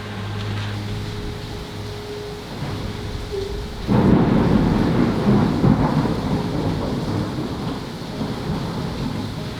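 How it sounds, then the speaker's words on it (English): Steady heavy rain hisses throughout, with a low rumble underneath and a sudden surge in intensity partway through. "It's still raining now, like raining very heavily."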